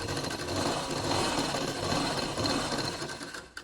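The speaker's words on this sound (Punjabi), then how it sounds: "ਸਲਾਈ ਜਿਹੜੀ ਹੈ ਕਨਾਰੀ ਤੇ ਮਾਰਦੇ ਜਾਣਾ" A sewing machine runs continuously and close, stitching lace along the edge of a dupatta (chunni), with a steady buzzing whir that eases off near the end.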